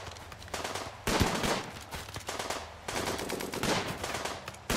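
Sustained video game gunfire in a tribal survival game, with rapid machine-gun bursts and repeated gunshots that swell and fade in loud waves across the clip, no talking.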